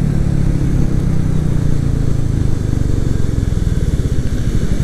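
A Royal Enfield Meteor 350 motorcycle engine at speed, a loud, steady low drone with a continuous rumbling throb and a constant rush of wind, holding even throughout with no pauses.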